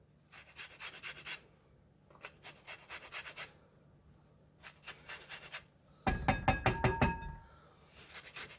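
Citrus fruit being rubbed over a grater to remove the zest, heard as bursts of dry rasping strokes with pauses between them, then a louder, more clattering scrape near the end.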